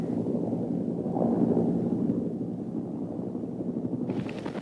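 A Cobra attack helicopter operating at an Army base in Colorado, heard as a steady low rumbling rotor and engine drone, fairly distant and even, with a slight swell and fade and a brief higher whine near the end.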